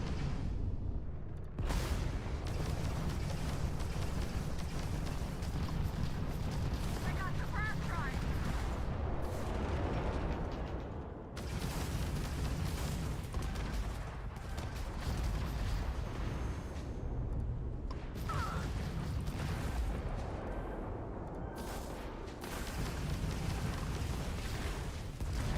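Missile explosions bursting around a spaceship in the video game Starfield, a dense roar of booming blasts that fills the whole stretch, loud and continuous, with brief drops between waves.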